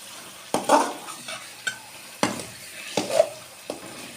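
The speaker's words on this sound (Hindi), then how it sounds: "अब हम इसमें ड्राई फ्रूट डाल देते हैं और अच्छी तरह मिक्स करेंगे" Dry fruits being stirred into makhandi halwa in a pan, with close, irregular scraping strokes of a spoon against the pan over a faint background sizzle.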